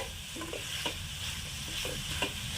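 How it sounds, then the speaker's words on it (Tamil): Tomatoes soften in a hot pan for garlic and chili chutney, a soft continuous sizzle with a few scraping stirs of a spoon, close up and with no one talking. "இன்னும் கொஞ்சம் தக்காளி நல்லா வதங்கட்டும்."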